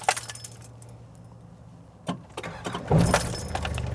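Engine of an 80s Mitsubishi Pajero 4x4 cranking and catching after a brief key jangle, then settling into a steady idle close by.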